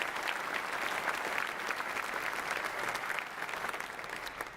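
A church-hosted community gathering gives a steady round of applause from a moderately distant crowd, continuous clapping that swells slightly and then eases off toward the end.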